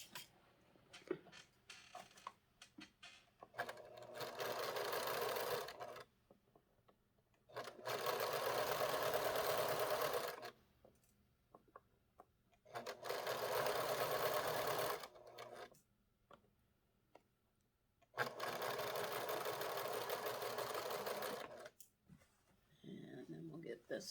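A sewing machine stitches fabric border strips for a quilt in several bursts of fast, even whirring, each lasting a few seconds. Quiet pauses with soft handling noises separate the runs.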